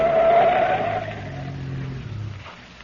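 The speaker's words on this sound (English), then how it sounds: "I rounded the turn and then cut off to the side of the road." A car speeding around a curve at night, its tires squealing in a long, loud, wavering skid that slowly fades as the engine roar drops away.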